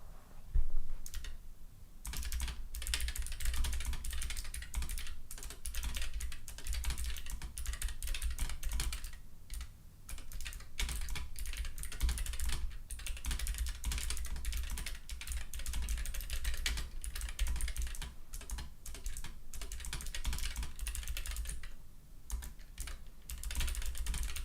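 Rapid, continuous typing on a computer keyboard, dense clattering keystrokes at close range filling the whole stretch with only brief pauses, no talking.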